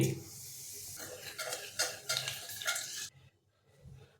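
Black cumin seeds sizzle in leftover fish-frying oil in a wok, a close bright hiss with a few stirring scrapes, cutting off abruptly into near silence.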